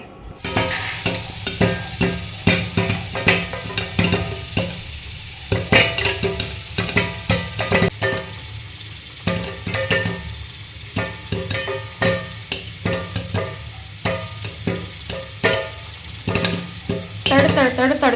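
Popcorn kernels crackle and burst inside a kadhai, a dense run of sharp pops and clatters against the metal that keeps going without a break, close and loud with no talk.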